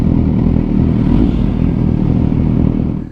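A BMW exhaust at an exhaust repair shop gives a loud, close, rough engine rumble with a dense rapid pulsing that holds steady, then cuts off abruptly at the end.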